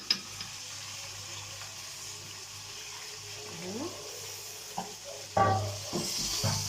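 Rice tipped into a pot holding a little water for sayadiya served with fried fish: a low steady hiss, then a sudden sizzling, rushing burst near the end.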